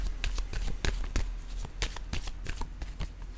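Tarot cards shuffled by hand in a quick run of crisp riffling and slapping bursts, close and moderately loud, with no talking.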